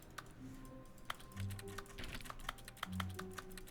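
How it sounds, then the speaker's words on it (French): Quiet keyboard typing from The Stanley Parable Ultra Deluxe, a steady run of soft key clicks over low background hum and faint tones, with no talking. "Ok, ça fait un bruit de clavier."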